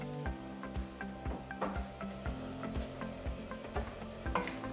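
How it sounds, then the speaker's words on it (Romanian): Cabbage sizzles and fries in a pan while a utensil stirs it with repeated scraping strokes, up close and alone with no voices. "Amestecăm."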